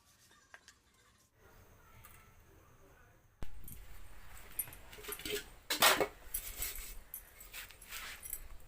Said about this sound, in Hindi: देखियो इतने काले काले हो जाते हैं बर्तन, और इन्हें कैसे कैसे मांजे।